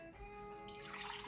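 About a third of a cup of water pours into accra cod fritter batter, a quiet splashing stream that brightens and swells toward the end, with no talk over it.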